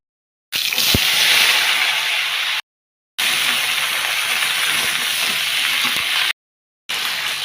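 Black cumin seeds sizzling in hot oil, a loud, dense, close hiss that runs steadily in three bursts separated by short silent gaps.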